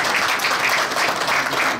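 Audience applause at a stock exchange launch event, a brief, dense burst of many hands clapping at a steady, fairly loud level.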